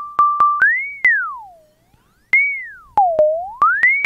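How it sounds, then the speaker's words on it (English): A Nord Micro Modular synth voice whose pitch a sine-wave LFO sweeps smoothly up and down in a steady wobble, with a held flat note at the start, sharp clicks scattered through it, and a brief near-silent gap in the middle. "This is what a sine wave did to the pitch."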